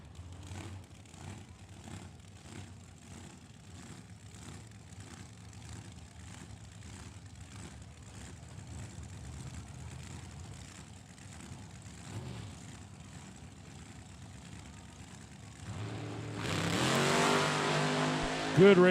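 Super Pro dragsters launching side by side at a drag strip, a steady mid-distance engine roar through most of the run, then a sudden louder burst near the end as the cars pass close.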